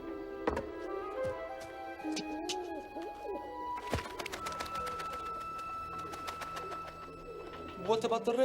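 Pigeons in a cage coo steadily while people talk over them, with scattered clicks and a louder knock partway through.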